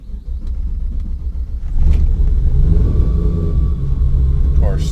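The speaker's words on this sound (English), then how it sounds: "Car started." An LSA-powered GTO with a stick shift cranks and fires up, settling into a loud, rumbling idle close by, with a brief rev as it catches and a voice talking over it.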